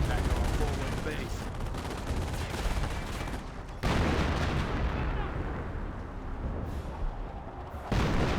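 MG42 machine gun bursts and artillery fire from a Company of Heroes battle, a dense, continuous barrage of loud gunfire and booming blasts with brief drops between volleys.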